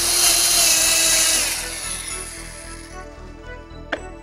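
Power drill boring into a piece of wood, a loud high whine that winds down after about a second and a half, trailing off with a sharp click near the end.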